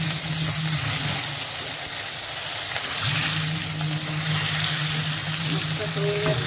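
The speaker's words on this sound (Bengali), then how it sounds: "দেখুন, এবার আমি মাছটা উল্টে দিচ্ছি।" Silver carp pieces fry in hot oil in a pan as they are flipped, giving a steady close sizzle with a low bubbling hum and faint clatter at the turn.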